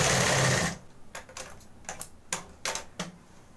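Rapid bursts of stitching from a sewing machine working on a belt-style blouse, after a loud opening burst; several short separated runs with pauses between them, close and clear with no talk.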